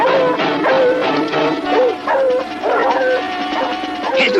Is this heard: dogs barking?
yes